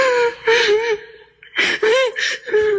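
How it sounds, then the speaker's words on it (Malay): Crying sound effect for a radio drama, a voice sobbing and whimpering in tremulous bursts with a brief pause midway, close and fairly loud. "Bayangkan suara tangisan"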